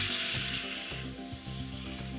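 Batter sizzling in a hot wok-style frying pan as it is spread thin, a close, steady hiss with faint crackling and a few scraping touches, heard alone without talk.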